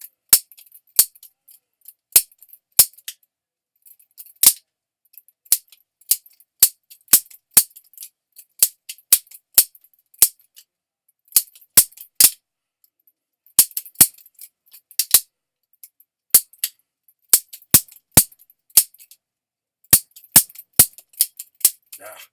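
A lightweight FlipFinz balisong trainer is flipped back and forth, producing sharp, close metallic clicks and clacks in quick irregular bursts that continue for the whole stretch without talk.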